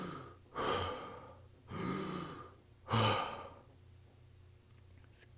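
A person imitates gasping for air after a seizure, producing three loud breathy gasps spaced about a second apart, then quieter breathing trailing off.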